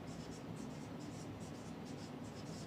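Chalk or marker strokes from a teacher writing on a classroom board during a 12th-grade chemistry lesson, a steady run of short scratchy strokes, faint and close, with no talk over it.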